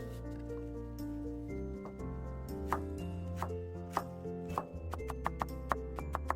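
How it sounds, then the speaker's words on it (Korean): Green onion, washed and drained, is chopped finely with a knife on a board, a run of quick, crisp, close knocks that speeds into a rapid rhythm toward the end. "깨끗이 씻은 대파는 잘게 썰어주세요."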